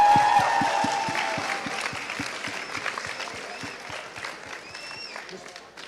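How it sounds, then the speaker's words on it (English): Audience at a high school spoken word poetry event gives the poets a round of applause, a crowd clapping that fades gradually, with a faint voice talking over it and a distinct rhythmic tapping underneath. "let's give one more round of applause for all these poets up here"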